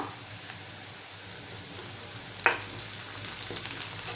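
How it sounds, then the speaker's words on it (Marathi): Curry leaves dropped into onions sizzling in hot oil for a Malvani-style brinjal dish produce a strong, continuous frying hiss with a sharp crackling burst near the middle, heard up close and alone. "आता आपण कढीपत्ता घेतलाय तो घालूया"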